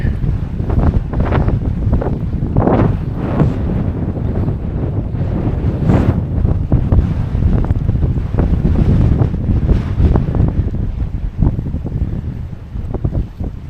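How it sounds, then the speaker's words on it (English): Strong wind at a harbor on the Lake Huron shore roars into the microphone as a loud, constant low rumble, with surf blended into the gusts. "It's much windier here than it was out there."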